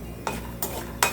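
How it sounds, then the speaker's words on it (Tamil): Dried peanuts being lightly roasted and stirred in a pan, with three distinct scraping stir strokes spaced evenly over a faint, low sizzle, close and moderately quiet. "நம்ம காஞ்ச மல்லாட்டை பயிறு, வேர்க்கடலை, இதை வந்து போட்டு கொஞ்சம் வறுத்துக்கலாம்"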